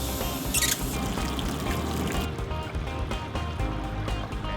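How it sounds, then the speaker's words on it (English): Tap water running steadily from a faucet, a continuous splashing pour at moderate level with no voices. "We're just getting water out of the faucet."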